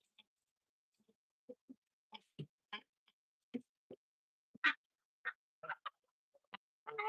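Geese on a farm at feeding time, giving a scattered series of short honks and clucking calls at moderate distance, with quiet gaps between bursts and no talk.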